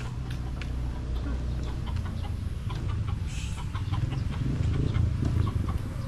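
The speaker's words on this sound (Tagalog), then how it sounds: "Yun na yung mga manok ko." Backyard chickens cluck steadily amid a low, busy farmyard background, with occasional rooster-like calls mixed into the continuous flock noise.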